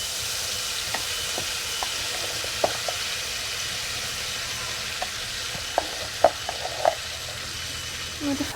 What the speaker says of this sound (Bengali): যে পেস্টটা করেছিলাম সেই পেস্টটা এবার এতে আমি দিয়ে দেবো।